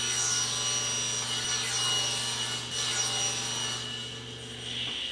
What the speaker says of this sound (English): Now I just need to cut off 1-inch sections for the splines.